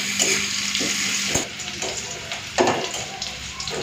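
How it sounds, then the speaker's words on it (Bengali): Chopped onion, green chilli and panch phoron spices sizzle in hot oil in a pan, a close steady fry with bursts of scraping and stirring from a spatula. "পেঁয়াজ, কাঁচা লঙ্কা, 5 ফোড়নটাকে একটু ভালো করে ভেজে নিই"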